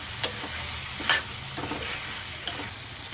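Tomatoes fry in a curry pan with drumsticks and cucumber, making a continuous close sizzle broken by several light stirring clicks and a spatula scrape.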